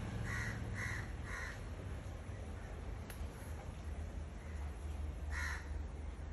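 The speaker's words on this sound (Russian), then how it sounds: "Птички разговаривают." Crows cawing near a hotel room in Zanzibar, a quick run of three harsh calls at the start and another single caw later, heard at middle distance over steady outdoor background noise.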